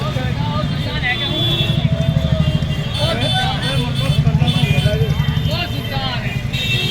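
Busy Mathura traffic rolls past a rickshaw carrying passengers, a constant low engine drone and road roar with surges of passing vehicles and faint chatter underneath.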